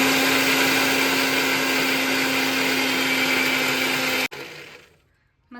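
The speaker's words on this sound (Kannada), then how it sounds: "ಹಾಗಾಗಿ ಇವಾಗ ಫಸ್ಟ್ ಇದನ್ನ ಒಂದು 10ರಿಂದ 15 ಸೆಕೆಂಡ್ ಬ್ಲೆಂಡ್ ಮಾಡ್ಕೋಬೇಕು." A blender whirs loudly on eggs for mayonnaise, a constant close motor roar that cuts off abruptly, leaving a short fading rattle.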